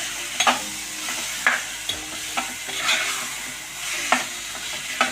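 Dal and tomato curry stirred in a pan, with steady, close scraping strokes about every half second over a soft sizzle, and no one speaking.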